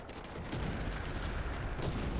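Tank cannon and gunfire in the video game War Thunder, a continuous heavy barrage of booming, rumbling shots with strong low-end weight, steady and loud throughout with no speech.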